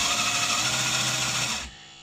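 Small electric fan inside a Killerbody RC car smoke exhaust unit, a steady high whirring hum close up that drops suddenly near the end as it winds down.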